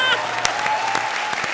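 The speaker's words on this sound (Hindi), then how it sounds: "जोरदार तालियां।" Loud applause breaks out from a studio audience at a comedy show, a dense burst of clapping running steadily with a few sharper claps standing out.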